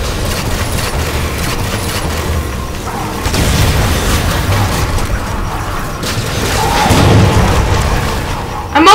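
Grenades go off in the Halo MCC shooter game, heavy booming blasts and rumble over a busy mix of gunfire and game noise, with a few louder bursts standing out.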